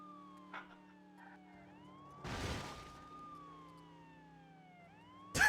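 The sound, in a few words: police car siren in video game True Crime: New York City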